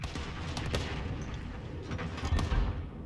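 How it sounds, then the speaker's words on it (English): Precision airstrike explosions in the Call of Duty: Modern Warfare video game, heard as a fairly faint, distant flurry of rumbling blasts and crackling impacts rolling together, with a deeper thump toward the end. "Allied precision airstrike incoming."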